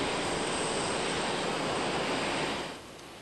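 Steady broadband roar of an airliner jet engine at an airport, heard as continuous loud whooshing that fades slightly near the end.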